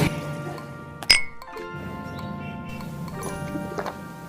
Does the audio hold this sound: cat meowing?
no